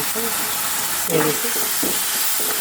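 A spoon stirs turmeric powder into a sizzling pan of cooked tomatoes for a moong dal and spinach dish, giving a steady frying hiss with soft scraping stirs throughout.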